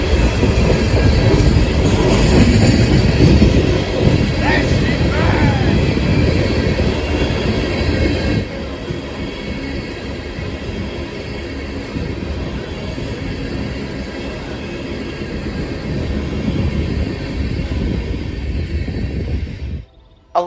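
A long combined freight of grain cars and a northbound empty ethanol train, hauled by locomotives including a Norfolk Southern C44-9W and a Canadian National SD70M-2, rolls past on Central Ohio rails. Its loud, steady rumble and wheel clatter ease slightly midway, then cut off abruptly.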